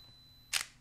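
A single sharp shutter release fires on a Minolta Dynax 5 film camera at the end of its self-timer countdown, a short crisp click over quiet background.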